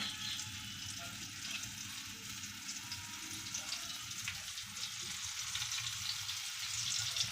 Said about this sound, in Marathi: आपण आता एक एक करून असं तेलामध्ये सगळे फ्राय करून घेऊया.